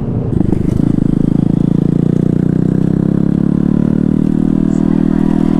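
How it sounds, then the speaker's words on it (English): A car revs hard at a rowdy car meet, a loud, close engine roar that swells and holds with rattly, buzzing tone, and people talking faintly around it. "Wait for the rev bomb."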